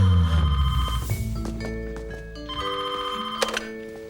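A telephone bell rings in a few bursts of bright tones amid a soft thud and low rumble, fairly close and clear, with no talking.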